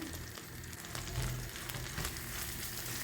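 Garlic, spices and black pepper toasting in a pan, giving a steady soft sizzle with faint crackle throughout; close but quiet, with no talk.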